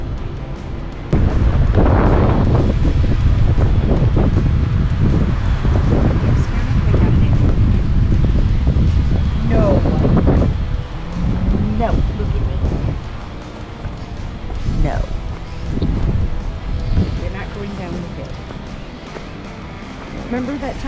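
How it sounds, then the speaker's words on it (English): Strong wind roars outdoors on a high, exposed spot, buffeting the microphone with loud, gusting rumble that rises and eases throughout, with voices faintly mixed in. "So windy up here."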